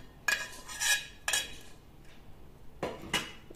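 Fried peanuts, cashews and dry coconut being mixed into a poha mixture, giving a few bright metallic clinks and scrapes of a spoon against a pot or bowl in short bursts with quiet gaps between.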